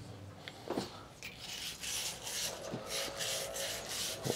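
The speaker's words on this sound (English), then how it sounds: "Now we gotta clean our valves. We'll use the other end of the brush here." A brush scrubs copper plumbing valves clean while washing machine shutoff valves are being replaced, giving close, brisk rubbing and scraping strokes in short uneven bursts.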